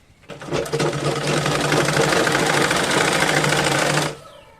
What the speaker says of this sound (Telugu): ఇప్పుడు వచ్చేసి పైన కుట్టు వేసేసుకుందాం